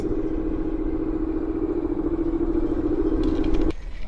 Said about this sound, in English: that's an army vehicle.